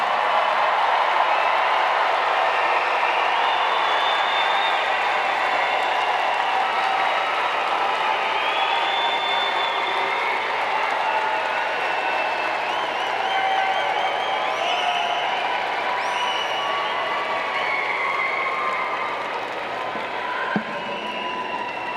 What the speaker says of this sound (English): let's salute them with your applause